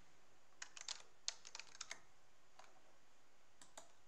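Quiet clicking from a computer keyboard as a variable name goes into a search window in Stata. Two short bursts of taps come over a faint steady hiss, followed by a few scattered single clicks.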